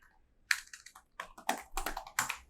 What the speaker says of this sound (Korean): 웹 브라우저를 열고서 여기다가 직접 타이핑해 보면 되는 거죠